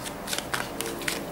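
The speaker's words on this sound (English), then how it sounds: "I will draw 7 cards for you now" Tarot cards being shuffled and drawn for a reading: a quick run of soft, papery riffles and flicks up close, several brief crisp bursts with no talk.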